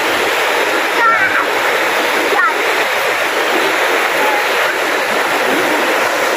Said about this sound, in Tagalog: Itong ilog na to guys.